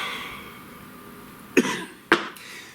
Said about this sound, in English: Made me cough.